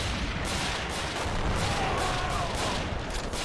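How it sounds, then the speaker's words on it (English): Artillery fire in the Men of War video game: a dense, continuous roar of booms and gunfire rolling together without a break, loud and close throughout. "No, I told you the artillery was just going to target them."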